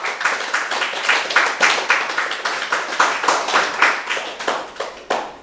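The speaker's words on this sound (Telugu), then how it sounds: "గట్టిగా క్లాప్ చేద్దాం." An audience at a meditation session claps loudly and rhythmically, a dense run of sharp, evenly spaced hand claps close by, with no talking.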